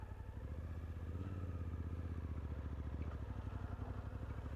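Suzuki V-Strom 800 motorcycle engine at low speed, a steady throbbing mid-range idle pulse, close and continuous, with the clutch barely let out.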